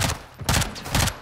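Rapid gunfire in Call of Duty Modern Warfare II during a prison break mission: three loud, close bursts of shots in quick succession, with no talking.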